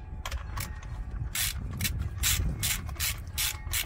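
A pipe channel mount for a home solar installation is tightened down with a ratchet, giving bursts of quick metallic clicking that repeat close up and alone.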